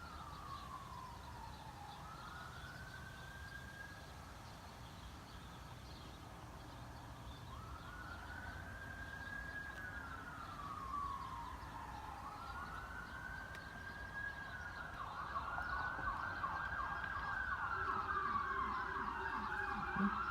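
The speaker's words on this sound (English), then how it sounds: "Got an ambulance call someplace." A distant ambulance siren wails in long rising and falling sweeps, growing louder and more layered toward the end over a low background rumble.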